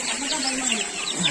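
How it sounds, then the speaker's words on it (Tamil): A dense, continuous chorus of peeping and clucking from thousands of small colored chickens inside a poultry farm, steady and moderately loud throughout. "பாத்தீங்களா, குட்டி குட்டி கலர் கோழிகள்."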